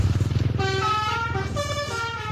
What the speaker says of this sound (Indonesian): masih banyak bus pariwisata yang melintas di Kota Depok selalu membunyikan klakson teloletnya